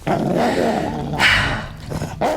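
A dog growls low and close in a dramatized scene, a sustained rumbling snarl with a couple of harsher bursts near the middle and end.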